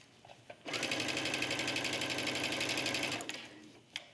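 A sewing machine runs a continuous stitching seam along a trench coat back yoke, a steady rapid whirring rattle that starts abruptly, holds for about two and a half seconds and then stops, close and clear with no talk.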